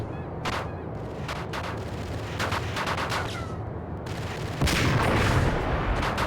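Gunfire in Max Payne crackles in a loud string of sharp shots and bursts, scattered across several seconds and swelling into a denser, louder volley near the end, with no talking.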